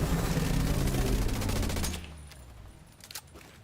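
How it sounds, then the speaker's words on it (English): Sustained rapid gunfire in a video game rattles loudly for about two seconds, then stops abruptly, leaving quieter scattered sounds behind. "Can you shoot at me again?"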